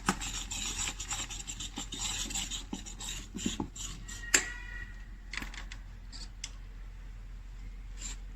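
A spoon stirs thick, fermented ragi millet idli batter, risen after seven hours, in a bowl; soft wet scraping and small ticking knocks repeat unevenly up close, with one sharper clink partway through and no talking.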